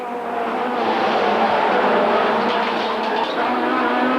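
BTCC touring cars from the 1992 season run nose to tail down a straight, their engines merging into one loud, sustained roar that holds steady and rises a little in the middle.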